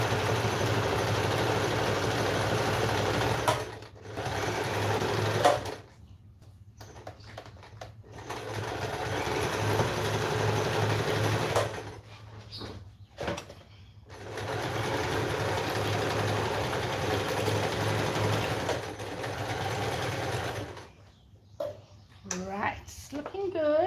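A sewing machine runs in steady bursts of rapid stitching, stopping and starting several times, close up, with brief pauses between runs.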